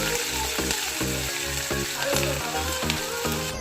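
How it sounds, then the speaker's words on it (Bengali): Chopped onions frying in mustard oil in a wok with whole spices, a steady close hiss of sizzling broken by regular stirring strokes about every half second, alone without speech. "পেঁয়াজ কুচি দিয়ে দিচ্ছি"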